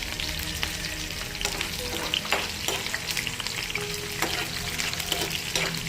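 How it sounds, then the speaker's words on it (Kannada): Chopped onions, garlic and ginger fry in oil in a pan with a dense, continuous sizzle, broken by frequent stirring clicks and scrapes close by. "ಇಲ್ಲಿ ನಾನು ಒಂದು ಪ್ಯಾನ್ ಇಟ್ಕೊಂಡು ಇದಕ್ಕೆ ಸ್ವಲ್ಪ ಎಣ್ಣೆ ಹಾಕಿ ಕಟ್ ಮಾಡಿರೋ 2 ಈರುಳ್ಳಿಯನ್ನು ಹಾಕಿ ಫ್ರೈ ಮಾಡ್ತಾ ಇದ್ದೀನಿ."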